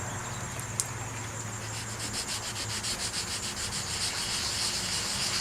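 Hand sanding a paint run on a car hood: close, steady rhythmic rasping strokes that rub back and forth continuously, alone without talk.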